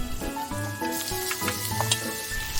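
Spoonfuls of sesame leaf pancake batter drop into hot oil in a pan over medium heat, setting off a steady close sizzle with small crackling pops throughout.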